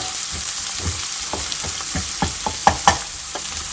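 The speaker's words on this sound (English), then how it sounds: "Let it cook until it's about to become brown" Onion fries in a pan for a tomato egg curry, crackling with a dense, steady sizzle and irregular popping and stirring clicks that grow sharper toward the end, close and fairly loud, no speech.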